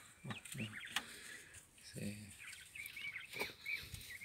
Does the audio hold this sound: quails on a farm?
yes